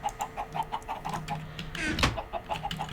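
Video game chickens cluck in a rapid, regular series of short pulses, with a louder squawk near the middle, moderately loud in a modded Minecraft farm setting.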